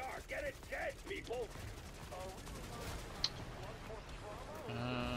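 Rapid gunfire in Black Ops 6 Zombies aimed at a boss, a dense continuous crackle of shots mixed with game creature bleats and effects, with people talking over it.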